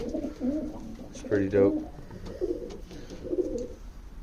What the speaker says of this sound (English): This is the roller tippler mix that we just picked up.